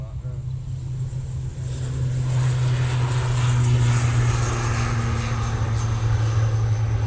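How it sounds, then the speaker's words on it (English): An Aer Lingus airliner lands on runway 23 left, its engine roar growing from a moderate hum to a louder steady drone with a low tonal hum underneath. "Aer Lingus going back to Belfast now, coming on to 2-3 left."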